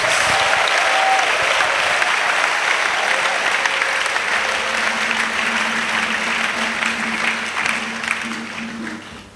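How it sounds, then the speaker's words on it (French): Sustained applause from a large crowd at a church missionary send-off in Côte d'Ivoire fills the space, steady and loud, with faint cheering mixed in, tapering slightly toward the end. "Acclamation à Jésus."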